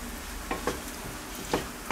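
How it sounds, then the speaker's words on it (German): Bacon fries in a pan with a soft, constant sizzle, broken by a few sharper crackles and stirring clicks, close and fairly quiet with no talking. "Und die brutzeln wir jetzt auch einmal schön an, dass die auch halbwegs kross werden."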